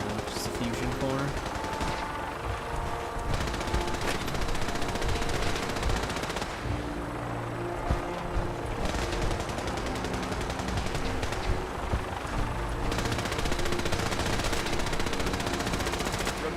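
Sustained automatic gunfire aimed at a Vertibird aircraft in Fallout 4, a steady rattling stream of rapid shots running throughout with a dense, noisy game soundscape beneath and scattered voices mixed in.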